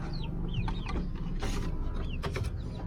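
Labuyo chickens cluck in short, scattered calls over a steady mechanical hum, with a few brief sharper chirps breaking through near the middle and end.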